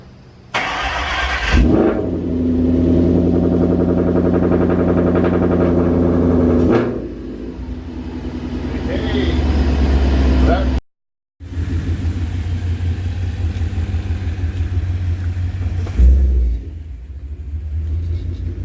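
A freshly built Ford Coyote V8 cranks and fires, then settles into a loud, steady, lumpy idle with a brief blip, cuts off abruptly, and restarts to run on at a steady rumble.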